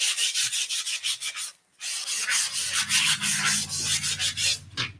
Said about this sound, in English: I'm actually going to take my little sanding sponge and I'm going to sand this just a little bit